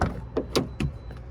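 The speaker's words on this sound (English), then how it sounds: "If I unlock all the doors, I could show you everything back here." Door locks on a 2008 Infiniti G35X S-Type clunk open in a quick run of three or four close mechanical thuds over faint background hum.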